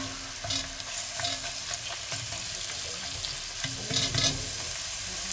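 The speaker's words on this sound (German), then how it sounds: "Dann schmoren wir hier drin die Zwiebeln mal kurz an, dass sie halt ein bisschen glasig sind." Halved, sliced onions sauté in a Dutch oven, a continuous sizzle with bursts of stirring and rustling as they are moved around.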